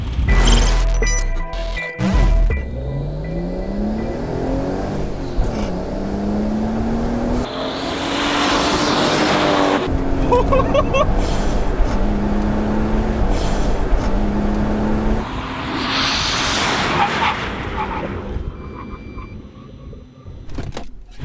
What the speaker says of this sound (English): we got just past the fourth cone on the 80 to 0 braking test